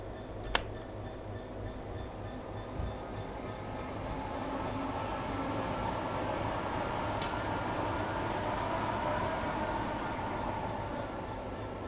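A steady low rumble of a rail head treatment train rolling along in Train Sim World 3, with a soft continuous hiss and a couple of faint clicks, no voices.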